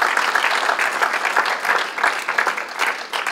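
A church congregation applauding at a worship service, steady, dense clapping from a full room that carries on at an even level throughout.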